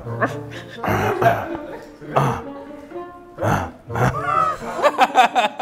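A young woman imitates a growl with her voice, producing rough, throaty rumbling bursts in an uneven rhythm, close to the microphone, with voices chattering around it.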